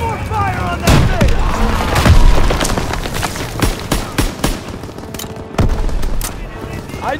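Gunfire rages in a Call of Duty WWII battle against a German Panzer, with dense overlapping rifle and machine-gun bursts and heavy booms, loud and close, under shouted voices.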